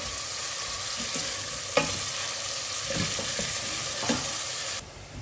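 Two medium onions sizzle steadily in a hot pan, with a few sharp clinks and scrapes of a spoon stirring through them.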